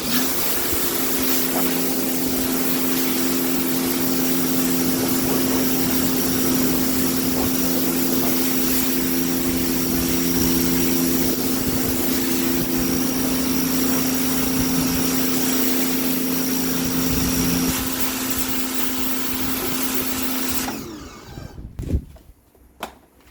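A Bigzzia 2000W 150-bar high pressure washer runs with a steady loud motor drone and a hissing spray, then shuts off near the end, leaving a few faint knocks.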